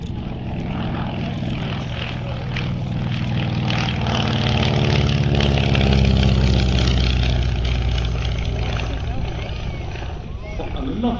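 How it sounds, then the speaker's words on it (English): A Beech Staggerwing propeller plane drones past at an airshow, its engine note swelling louder toward the middle and then fading slightly, steady and continuous. "What a lovely aeroplane and beautifully flown by Peter."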